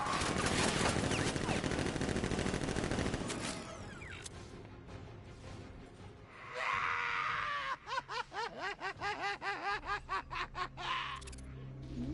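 Sentry guns in Batman: Arkham Knight open fire in rapid bursts of gunfire, a dense loud barrage at first, then a rhythmic series of repeated shots later, with game sound effects and voices around it.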